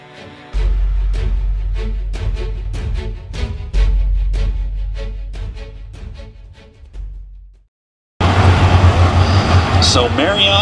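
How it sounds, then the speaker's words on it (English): USMTS modified race cars on the Humboldt Speedway dirt track before the green flag: a loud rumbling engine drone with steady rhythmic pulses, a brief drop to near silence, then a louder, harsher roar. "So Marriott and Gemmill on row number one, ready to go up to the green flag off of turn number four"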